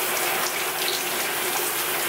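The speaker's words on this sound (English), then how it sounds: "This is me in the shower." Shower water running steadily in a bathroom, a constant close hiss of spray and splashing that fills the whole clip with no talk.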